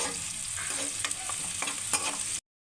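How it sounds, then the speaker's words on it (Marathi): Onions sauté in a pan, a close, steady sizzle with several soft stirring scrapes, cutting off abruptly into silence near the end. "कांदा परतून घ्यायचा"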